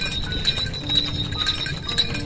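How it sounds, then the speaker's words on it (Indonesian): Horse hooves clip-clop while pulling a royal carriage, rapid rhythmic hoofbeats with bright metallic jingles over a low rumble, close and steady, no speech. "Suara langkah kaki kuda, suara kereta kencana ini itu terdengar"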